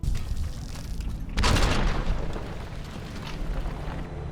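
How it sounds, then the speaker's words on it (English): A massive nuclear-style blast from a killed ant in Fallout: New Vegas, a sudden loud booming roar that hits around the midpoint and rumbles on over a dense, noisy game background. "killed an ant and it created a fucking nuclear explosion, killing me 3 times in a row"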